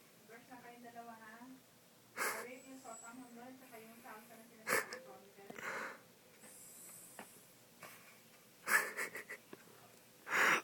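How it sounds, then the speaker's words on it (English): A dog lying down snores in wheezy, snorting breaths at an irregular pace, close by and fairly loud, while a person talks over it. "she's snoring."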